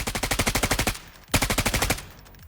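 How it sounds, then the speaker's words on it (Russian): Two bursts of rapid automatic fire from an RPK machine gun in the video game Arena Breakout Infinite, about a dozen rounds each with a brief pause between, loud and close. "я вам сейчас покажу отдачу РПК"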